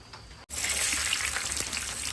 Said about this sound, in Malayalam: അണ്ടിപ്പരിപ്പ് മുന്തിരി സവാള ഇത്രയുമാണ് ആദ്യം മൂപ്പിച്ചെടുക്കുന്നത്